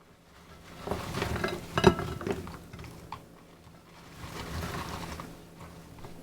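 Crispy namak pare, fried dough snacks, being stirred and lifted out of hot oil, giving soft scraping and rustling with a few sharp clinks of a utensil and a faint sizzle, fairly quiet throughout.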